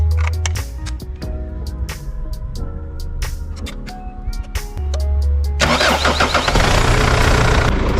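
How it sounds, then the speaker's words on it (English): A Mitsubishi Pajero 4WD engine cranks and catches after a few clicks and mechanical clunks, then settles into a loud, steady close-up idle with no talking. "Now you just turn your car on and let it idle for around 10 to 15 minutes."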